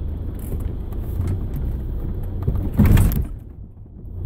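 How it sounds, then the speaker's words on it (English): A two-ton 4x4 slides on an off-road track with the throttle lifted, giving a steady low rumble of the vehicle rolling over rough ground and a brief louder scraping surge near the end. "See how the car will just slide?"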